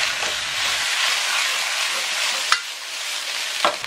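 Duck meat and pickled radish are stir-fried in a wok with a loud, close sizzle and hiss, broken by a few sharp spatula scrapes and clanks against the metal.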